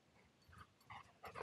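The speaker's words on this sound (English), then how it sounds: "Here comes the wild dog." A dog on a hiking trail by a lake makes a few short, quiet snorts and pants in bursts that grow louder toward the end, with no talking.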